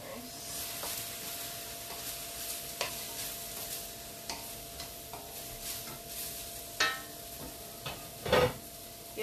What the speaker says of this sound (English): I would more call this like sauteed vegetables.